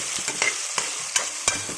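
Chickpeas with turmeric and salt being stirred in a pan, with a spoon scraping in short irregular strokes over a soft background sizzle, close and clear, no voices.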